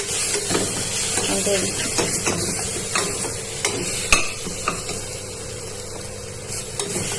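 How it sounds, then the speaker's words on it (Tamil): Rajma, peas and potato being stirred into sizzling masala in a pan, with steady frying hiss and scraping, clattering stirs throughout, close and fairly loud, no talking. "இப்போது பட்டாணி உருளைக்கிழங்கு ராஜ்மா இது மூணுத்தையும் நான் சேர்த்துக்கிட்டேன் மசாலாவோடு சேர்த்து நம்ம நல்லா கலந்து"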